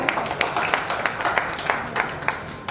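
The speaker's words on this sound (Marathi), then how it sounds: "ओमसाठी एकदा जोरदार टाळ्या." Lively applause from an audience at a children's poetry gathering for a young poet, dense overlapping hand claps with sharper individual claps popping out, steady and fairly close.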